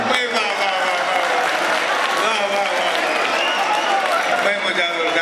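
Audience applause at a Nagpur mushaira poetry recital, steady and dense throughout, with voices and cheers mixed into the crowd noise.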